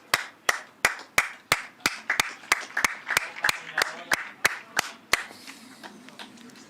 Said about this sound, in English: Round of applause ripples around the ground.